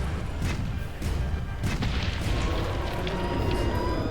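Cannon fire in Monster Hunter World during a Zorah Magdaros quest comes as several deep booms over a continuous rumbling battle backdrop.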